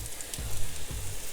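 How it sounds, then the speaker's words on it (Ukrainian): Steady sizzling of banana syrnyky (cottage cheese pancakes) frying in a hot pan, a continuous crackling hiss with a few faint thumps underneath. "І тепер декілька хвилин обсмажую з однієї сторони."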